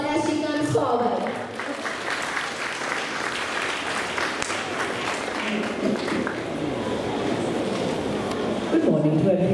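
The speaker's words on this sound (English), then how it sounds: "Kindly give her a round of applause as she comes forward." A school assembly crowd applauds a guest coming forward at a cultural program, with loud sustained clapping and voices mixed in throughout, rising again near the end.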